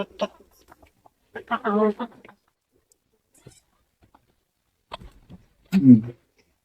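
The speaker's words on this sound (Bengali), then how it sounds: "বিশাল বড় মোরগ হয়েছে" A very large rooster clucks close by in a few separate bursts: a short call, then a longer run of throaty clucks, and a final loud cluck after a quiet gap.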